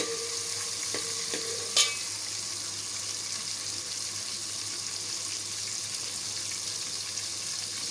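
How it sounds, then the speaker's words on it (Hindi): Browned meat frying in a pan with added ginger-garlic paste, a continuous even sizzle with a few stirring clinks early on and no talking. "अदरक लहसुन को थोड़ी देर भूनूंगी"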